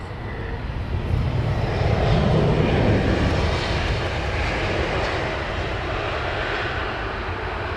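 An airliner arriving on Heathrow's runway 27R passes with a loud jet engine roar that swells to a peak early, then settles into a steady, slowly fading rumble, with no one talking.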